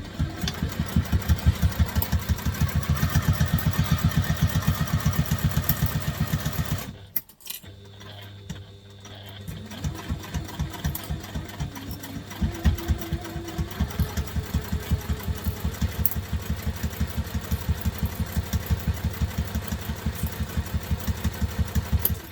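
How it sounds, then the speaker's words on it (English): Domestic sewing machine stitching a garment seam at construction stitch length, a steady rapid mechanical whir with a pause partway through before resuming its even rhythmic run, close and loud. "Now I'm going to take that to the machine and sew that with the seam allowance in the pattern"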